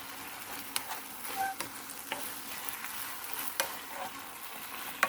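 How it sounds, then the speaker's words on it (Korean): Braised fish cake being stir-fried in a pan to cook off moisture: a quiet, continuous sizzle with scattered soft clicks and scrapes from stirring, no voices. "이제 조금 더 볶아주면서 수분을 날려주겠습니다"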